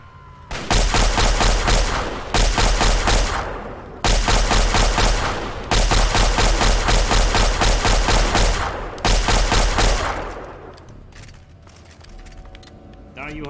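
Gunfire in Fallout 3 on Very Hard mode, loud bursts of rapid automatic shots in long runs broken by brief gaps, then fading into quieter game sounds near the end.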